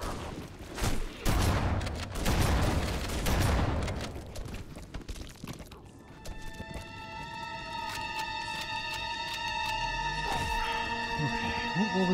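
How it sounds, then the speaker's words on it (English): Assault rifle fire in the shooter game Halo: Combat Evolved: dense, rapid bursts with explosive crashes in the first half, loud and close, fading into a steady humming ambience with electronic tones. "Was that an assault rifle?"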